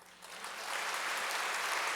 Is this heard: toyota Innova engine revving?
no